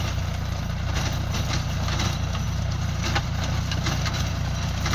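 A tractor engine rumbles steadily at close range, a low, continuous drone with faint rattling as it plows weeds into the soil of an oil palm farm.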